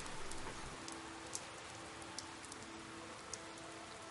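Steady rainfall in The Guild 2: Renaissance, a soft continuous patter with occasional distinct drips, moderately quiet and uninterrupted by voices.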